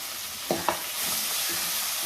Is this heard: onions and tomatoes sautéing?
yes